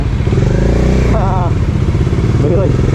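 A Bajaj Dominar 400 motorcycle, fitted with a lowering kit, runs with a steady, loud engine drone and rumble throughout, while someone talks over it.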